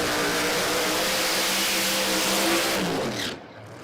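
Loud, sustained roar of piston and rotary drag race car engines at a drag strip start line, droning steadily before abruptly cutting back to a lower rumble near the end.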